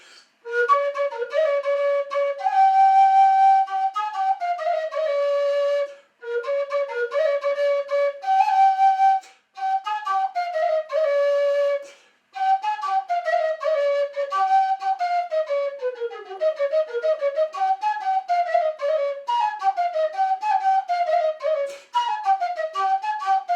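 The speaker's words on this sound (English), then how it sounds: "I think I started it out with this, which is the G whistle again, and this is how the second tune goes." A G pennywhistle plays a lively, ornamented folk tune solo, bright and clear, with brief pauses between phrases.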